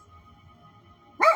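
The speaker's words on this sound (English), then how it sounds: "And we hear dog." A single dog bark rings out sharply and fairly close after a stretch of quiet low hum. It is short and loud, at the very end.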